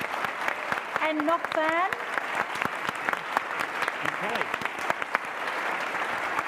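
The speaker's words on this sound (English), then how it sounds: "can we get a massive round of applause" Sustained audience applause fills a theatre at a stage adaptation event, steady and dense throughout, with a host's voice speaking briefly over the clapping.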